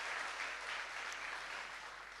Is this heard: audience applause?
yes